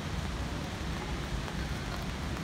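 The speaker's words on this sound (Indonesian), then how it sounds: "hujan nggak berhenti sudah 3 hari ini" Steady rain from Typhoon Lionrock in Hong Kong pours down in a dense, even hiss, loud and close, with no voices or other sounds over it.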